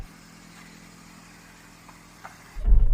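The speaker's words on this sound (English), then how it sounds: "We're going to drive down this bank and we'll see how well the cars grip as they go on this kind of slippy, slopey, angly bit." A Porsche Macan and a BMW X3 M ease down a slippery, sloping off-road bank, with a low, steady engine rumble that swells into a louder surge at the very end.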